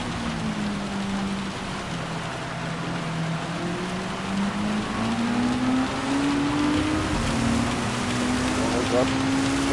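Heavy rain hisses steadily in the Gran Turismo 7 racing game while a race car engine drones and shifts pitch underneath, the downpour a constant loud wash throughout.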